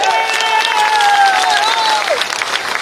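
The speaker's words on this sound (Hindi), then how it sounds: "एक बार बिंद क्षेत्र के लिए जोरदार तालियां बजा के" Crowd applause at a large outdoor political rally, a steady wash of clapping with a voice or tone sustained over it, fairly loud and continuous throughout.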